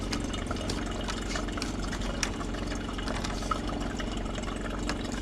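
Bottom-load water dispenser pump drawing water from the bottle, a steady close hum with a continuous watery churn throughout, no pauses.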